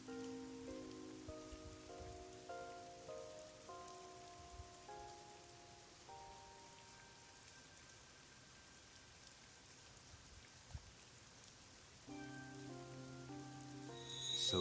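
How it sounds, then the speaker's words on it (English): Soft, steady rain falling in the video game AI: The Somnium Files, a faint hiss of rainfall beneath sustained melodic music tones, no speech. "It's raining."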